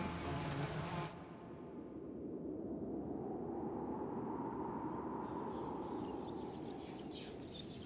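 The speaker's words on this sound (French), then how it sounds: "La mouche doit piquer la peau artificielle pour accéder à son festin d'hémoglobine." A tsetse fly probing artificial skin gives off a steady, close insect buzz that runs without a break, with a fainter high whine rising near the end.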